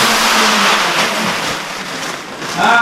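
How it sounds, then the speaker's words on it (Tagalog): A rice mill's engine runs loudly close by, a rough mechanical drone that swells, eases off and surges again at the end. "Ito yung gilingan ng palay mga kasinag."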